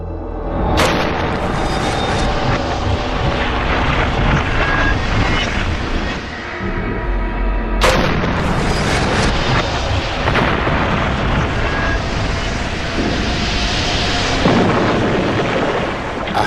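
A pressurized aircraft fuselage model, pumped to 8¼ pounds of cabin pressure, is deliberately ruptured in a test chamber, giving two sudden loud bursts followed by a sustained roaring rush of escaping air.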